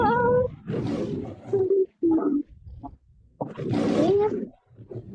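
Roaring lion, two loud, drawn-out roars with a gap between them, each with growling low harmonics, heard alone close up with no talking.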